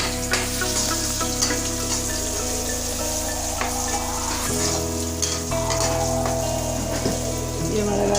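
Carrots sautéing with chilies in a pan, a continuous near sizzle and hiss with occasional stirring, over a low steady hum, without talking.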